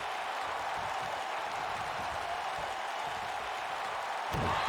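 A wrestling crowd cheers for Johnny Cobra at an indoor show, a steady wash of cheering and applause that swells slightly near the end.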